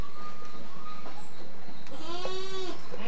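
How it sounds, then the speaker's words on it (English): Goats on a family property in Trinidad give a short wavering bleat near the end, heard over a steady background of outdoor noise. "Oh, these are goats. Good old goats."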